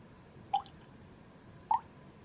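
Two small drips of water falling from a spoon into a glass of whisky, separated by about a second, soft and close in a quiet room.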